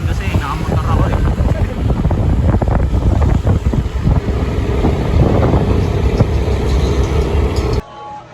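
Strong wind buffets a microphone while riding a motorcycle through city streets, a loud continuous roar with low rumble and traffic underneath, cutting off abruptly near the end.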